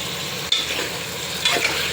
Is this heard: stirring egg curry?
yes